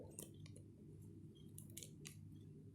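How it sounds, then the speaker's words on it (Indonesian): Scissors snipping through the plastic packaging of a durian pancake, several short crisp cuts in quick bursts, close to the mic against a low steady background hum, with no talking. "Kalau biar nggak lama kita gunting aja."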